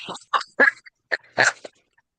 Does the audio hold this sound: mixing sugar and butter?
no